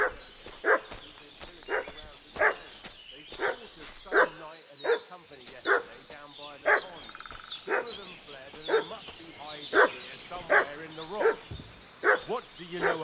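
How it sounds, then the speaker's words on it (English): Dog barking repeatedly in Kingdom Come Deliverance 2, a steady series of sharp barks at roughly even intervals, moderately close, with game ambience and bits of other sound around it. "that dog making such a fuss about?"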